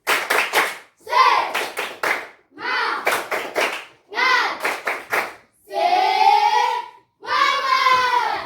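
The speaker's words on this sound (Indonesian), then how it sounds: "Tepuk semangat dulu." Children in a classroom doing a spirit clap led by their teacher, with bursts of rapid hand clapping alternating with loud, close chanted voices in a steady rhythm.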